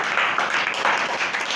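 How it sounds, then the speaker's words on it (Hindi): An audience at a mushaira poetry gathering held by a welfare organization in Rehri Goth claps together, a short, soft burst of applause heard from a distance. "बहुत शुक्रिया, तालियां हो जाती हैं।"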